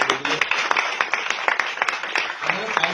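An audience at a motivational business seminar claps, a busy patter of many hands with sharper individual claps popping out, while a voice carries on over the top.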